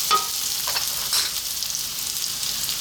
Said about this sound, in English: What we're going to do now is drop in chopped garlic